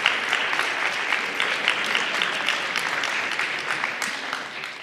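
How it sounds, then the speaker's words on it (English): Steady audience applause at an International Women's Day dinner celebration, many hands clapping in a dense, continuous wash at close range for the whole stretch, with no talk over it. "Please clap for her."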